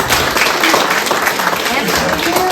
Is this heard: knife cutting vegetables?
no